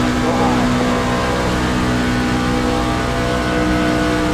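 Race truck engines in the iRacing sim roar at a constant loud level, a dense steady drone with a faint whine and no clear breaks.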